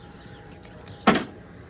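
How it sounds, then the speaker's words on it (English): Old keys to a 1963 Ford Fairlane 500 jangle in one short, fairly close metallic burst, with quieter faint clinks just before it. "Let me get the old handy dandy keys out here."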